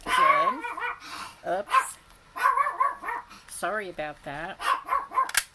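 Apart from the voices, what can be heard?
dog barking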